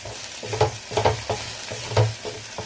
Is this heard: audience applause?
no